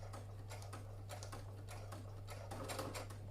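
A sewing machine stitching vinyl for a clutch bag, quiet bursts of rapid mechanical clatter that stop and start in short runs over a low steady hum, with no talking.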